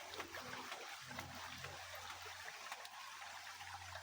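A steady, soft rush of flowing stream water fills the scene, continuous and moderately distant, with faint low hums underneath and no talking.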